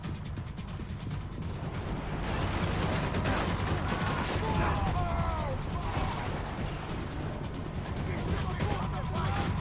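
Dense, continuous bursts of gunfire and explosions in Max Payne 3, loud and chaotic, with a voice talking over the action.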